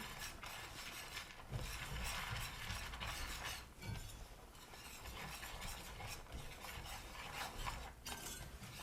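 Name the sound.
stirring cocoa powder into chocolate sauce in a pan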